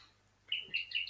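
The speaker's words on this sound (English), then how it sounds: "the bird that you're hearing cheeping was an apellis" An apalis bird cheeps from a thicket at a wildlife waterhole, a quick series of thin high chirps in close succession, faint and fairly distant after a short silence.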